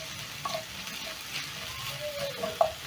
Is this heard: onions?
yes